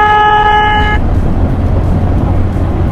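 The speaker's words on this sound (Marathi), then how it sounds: "हॉर्न कसा इज्जत द्या हॉर्नाला." A vehicle horn honks once in a sustained, loud blast lasting about a second, then cuts off, leaving steady road and engine rumble from a moving motorbike in damp weather.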